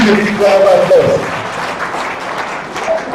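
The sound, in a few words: applause at summit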